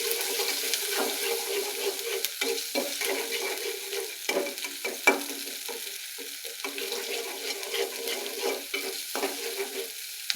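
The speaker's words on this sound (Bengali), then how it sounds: "তেলগুলো গরম হয়ে গেছে এখন দিবে দিবে যে মশলাগুলো" Spices sizzling in hot oil as they fry, with a continuous crackling hiss and repeated scraping stirs and clinks of a utensil against the pan.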